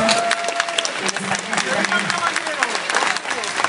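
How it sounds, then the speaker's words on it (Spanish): Audience applause for the presenter at a cosplay contest in Gijón. Steady, dense clapping runs through the whole stretch, with voices and a sustained vocal tone mixed in. "Un aplauso para nuestra presentadora"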